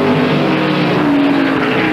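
NASCAR stock cars at the 1997 Save Mart Supermarkets 300 road race accelerating hard out of a turn, a loud continuous engine roar with a rising whine, close and alone.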